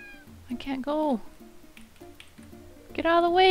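A cat in the video game Rakuen gives two clear, close meows, one early and a louder, longer one at the end, with soft dripping sounds in the quiet between.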